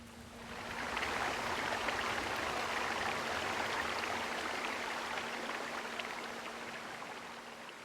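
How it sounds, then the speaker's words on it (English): In the video game Pillars of Eternity, a small mountain stream runs with a steady, even rush of flowing water that fades in and then holds without a break. "You hear running water and see a small stream that carves its way into the mountain."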